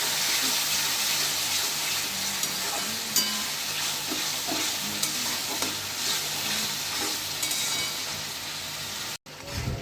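Spice masala for a mutton curry frying in a pan with a little water added, a loud steady sizzle and bubbling with occasional scrapes of stirring, close up, no voices, cutting off briefly near the end.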